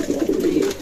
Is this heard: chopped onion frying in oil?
no